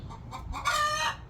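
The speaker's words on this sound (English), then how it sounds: "I have a chicken that just laid an egg and it's kind of funny." A hen clucks and squawks after laying an egg, a few short calls rising into a louder drawn-out cackle, fairly faint and close, with no speech.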